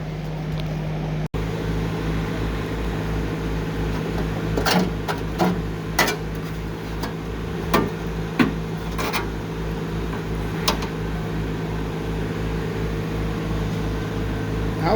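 Reciprocating body saw cutting sheet metal on a 1975 Porsche 914 driver's-side front fender, a steady close buzzing drone with sharp clicks and rasping bursts scattered through, no talking.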